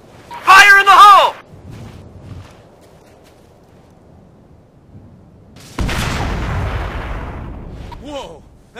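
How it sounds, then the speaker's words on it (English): A controlled IED detonation in Operation Flashpoint: Red River sets off a loud, broad explosion that rumbles and slowly fades over several seconds, with radio voices talking before the blast and again just after it. "That was a controlled explosion?"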